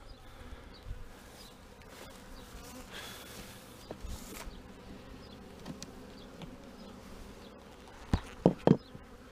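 Honey bees from a newly installed package colony hum steadily in an open hive, a constant close buzz with a few sharper, louder buzzes near the end.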